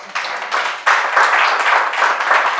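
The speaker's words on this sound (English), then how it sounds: "you can applaud yourself" An audience at the Green Solutions Awards 2022-2023 international ceremony breaks into dense, steady applause, the many hands swelling after a brief start and holding loud and continuous.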